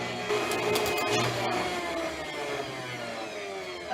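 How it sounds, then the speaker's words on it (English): An electric hand mixer whirs steadily as it beats eggs to a froth for French macarons, a continuous close motor drone with a brief higher rattle near the start. "And then I'm going to turn on my mixer, and we're just going to mix it until it gets kind of bubbly, frothy"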